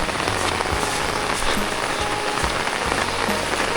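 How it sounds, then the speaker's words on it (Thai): Heavy rain pours down in a steady, dense roar of drops hitting surfaces, filling the whole stretch without a break and with no voices. "ฝนตกแล้วนี่นะพี่น้อง"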